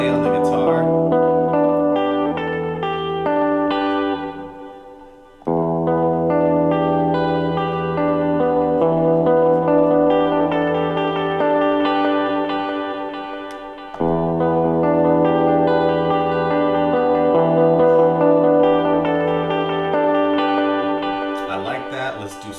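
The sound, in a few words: sampled guitar with delay effect on Roland P-6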